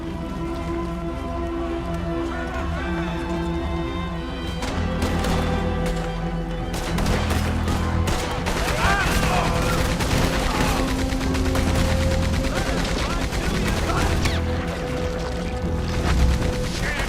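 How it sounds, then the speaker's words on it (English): A Gatling gun roars in Red Dead Redemption 2, loud, rapid continuous fire that builds up and keeps rattling for many seconds over dense battle noise. "Get on that Gatling gun"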